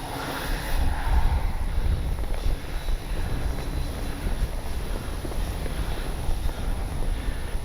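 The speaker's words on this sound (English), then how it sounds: "Yeah, it's windy today." Steady wind buffets the microphone at an outdoor RC plane flying field, a constant broadband roar and rumble with faint engine-like whine mixed in and no voices.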